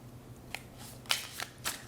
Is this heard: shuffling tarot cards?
yes